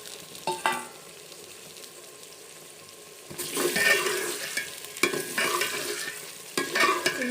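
Potatoes being stirred and mixed into matar pulao in a pot, with soft scraping and sizzling that comes in a few louder bursts of stirring between quieter stretches, no voices.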